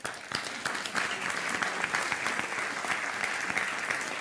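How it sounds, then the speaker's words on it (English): Sustained applause from an audience at the IMPAKT Festival 2024 opening, steady clapping filling the room with dense, even noise for several seconds. "please a warm applause."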